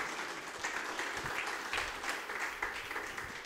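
Sustained applause from an audience at a wedding film festival awards ceremony, fairly faint and even, a continuous bed of many hands clapping with no voices over it.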